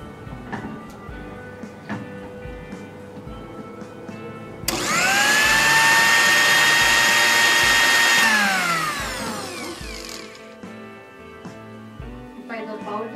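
A mixer grinder grinds dates and nuts for laddu in one loud burst of about five seconds, whining at high speed, then slowing as the motor winds down. Quieter background sounds come before and after.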